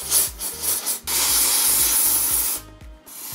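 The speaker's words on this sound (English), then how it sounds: "we're gonna get our trusty little spray can here" A compressed air can blasts dust out of the vents of a PS5 console in a long, loud, close hissing spray, preceded and followed by short bursts, with no talking.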